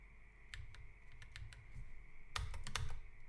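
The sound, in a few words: typing on a computer keyboard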